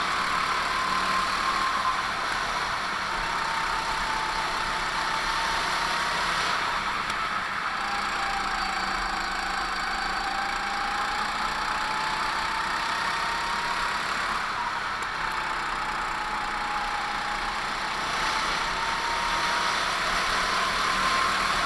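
Rock Kart League go-kart engines race around the Michiana Raceway Park track, a loud, continuous buzzing drone whose pitch rises and falls gently as the karts run the straight.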